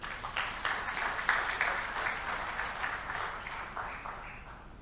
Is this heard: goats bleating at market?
no